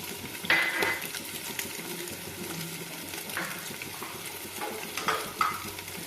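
Green chillies sizzle quietly in a pan with frying egg and onion while a utensil stirs them, with a few light metallic clinks over a soft, steady crackle.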